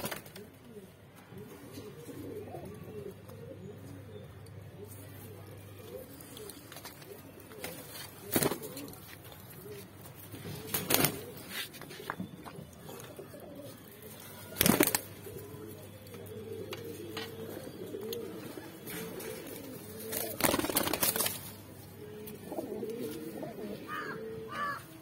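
Pigeons of several breeds, including shaggy black birds, coo softly and steadily at a pigeon market, with a few louder sharp bursts and faint voices now and then.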